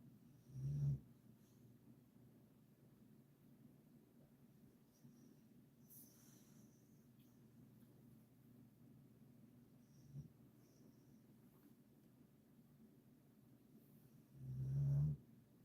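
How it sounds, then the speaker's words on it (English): A sleeping dog snores quietly nearby, with a soft snort near the start and a louder, longer breath near the end, separated by long stretches of faint hiss in a quiet room. "And dog snoring."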